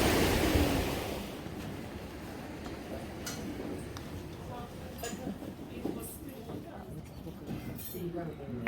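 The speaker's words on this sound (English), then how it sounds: "can you hear that water, guys?" Flowing water near a mountain camp in Peru on the Ausangate trek, a steady rushing wash that is loudest at first and then settles under ambient noise with some faint ticking and other small sounds.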